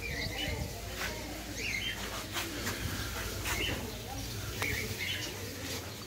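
Small cage birds in a pet bird shop chirp and tweet repeatedly in short bursts, with cooing and occasional wing flaps over a constant background hum of the shop.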